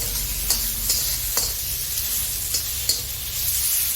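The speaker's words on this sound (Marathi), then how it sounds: "चांगले भाजून घ्यायचे टोमॅटो" Tomatoes roast in a hot pan with cashews, giving a dense continuous sizzle and crackle broken by several scraping stirs of a spatula, close and fairly loud, no voices.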